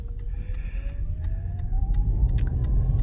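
A Prius towing a car merges onto a highway, its engine whine climbing steadily in pitch over constant road roar, with a few brief clicks and squeaks near the end.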